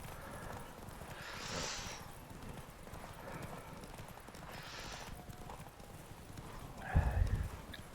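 Hooves of the horse mount galloping in the Witcher 3: Wild Hunt video game, a soft repeating clip-clop rhythm heard at low volume with a short louder thump near the end.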